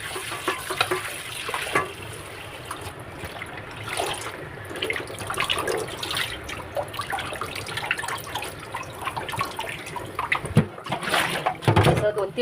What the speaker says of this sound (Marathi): असं स्वच्छ पाण्याने धुवून घ्यायचं पहिलं पालक व्यवस्थित